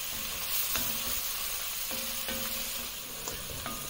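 Portabella mushrooms sizzle as they cook in wine in a pan for soup, a steady close hiss with occasional faint clicks of stirring, heard alone.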